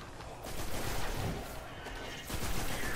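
Gunfire in the sci-fi shooter Destiny, a dense run of rapid shots and crackling impacts that keeps going for the whole stretch, fairly loud and steady with no voices over it.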